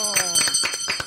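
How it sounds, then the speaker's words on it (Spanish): Santa Claus rings a bell in quick, bright jingling bursts during a Christmas Eve television broadcast, heard up close alongside excited talking. "Santa Claus, a ver la campana. Queremos escuchar esto."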